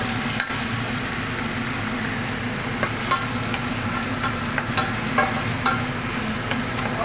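Onions frying in a pan for Filipino sinigang na baboy with pork, a steady close sizzle with occasional stirring clicks and scrapes running throughout, no talking.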